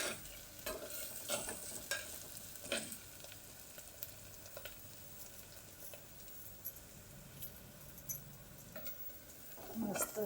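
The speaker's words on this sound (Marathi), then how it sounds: "आता घालू अद्रक लसूण, अद्रक आणि लसूण थोडा तेलामध्ये" Ginger and garlic fry in oil for egg bhurji while being stirred, with a soft steady sizzle and scraping stir strokes scattered throughout, fairly quiet overall.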